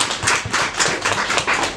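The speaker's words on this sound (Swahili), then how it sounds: "Hebu tumbe Bwana Yesu makofi tafadhali." A church congregation claps for Jesus in quick, fairly loud rhythmic bursts, several even beats packed into a short span with no talking over them.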